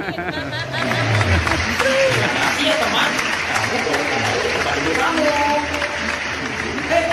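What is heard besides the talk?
children's audience applause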